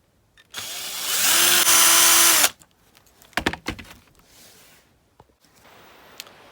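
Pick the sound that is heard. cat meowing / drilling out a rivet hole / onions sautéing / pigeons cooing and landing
drilling out a rivet hole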